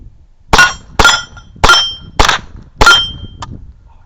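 Rimfire gunshots at an outdoor shooting range: five sharp, loud, close cracks in quick, steady succession about half a second apart, each trailing off briefly, with no talking.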